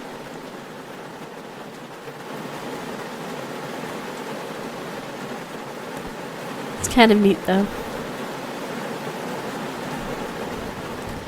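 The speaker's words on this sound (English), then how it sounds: "It sounds kind of nice listening to the calm rain" Calm, steady rain hisses gently and evenly throughout an indie video game scene, a soft continuous wash broken briefly by a short burst near the middle, with a person speaking quietly over it.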